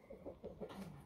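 A rooster at the poultry yard of Grutas Park in Lithuania gives a quick run of soft, rhythmic clucks, faint and close.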